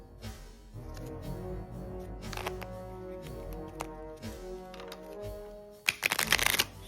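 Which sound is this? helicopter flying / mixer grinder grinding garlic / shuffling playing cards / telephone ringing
shuffling playing cards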